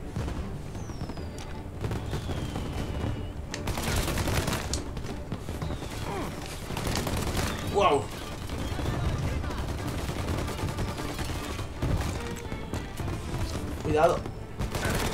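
In the video game Mafia: Definitive Edition, rapid bursts of gunfire crackle through a noisy game soundscape, with scattered booms and thuds and a person talking over the action.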